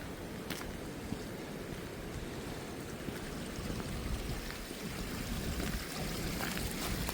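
Spring water welling out of the ground at Whiskey Springs flows through a culvert under a road, making a steady, soft, broad rushing and trickling wash that continues unbroken, with no talk.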